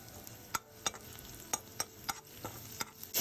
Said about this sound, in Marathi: ऑइल तापल्यावर त्यामध्ये थोडा लसूण टाका